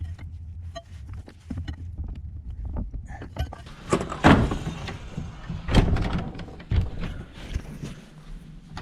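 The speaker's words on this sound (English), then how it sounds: "Door shuts." A cabin door shuts with a sharp wooden thud, followed by scattered knocks and scrapes during foundation repair work, with no voices.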